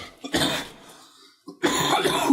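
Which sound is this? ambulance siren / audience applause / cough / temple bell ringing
cough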